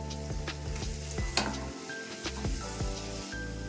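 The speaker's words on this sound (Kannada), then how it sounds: "ಸೊಪ್ಪುಗಳನ್ನೆಲ್ಲ ಬಾಡಿಸ್ಕೊಂಡು ಬಾಡಿಸ್ಕೊಳ್ಳಿ, ಚೆನ್ನಾಗಿ ಬಾಡಿಸ್ಕೊಳ್ಳಿ" Greens, turmeric and spices sizzle in hot oil while a spoon stirs and scrapes the pan in an uneven rhythm.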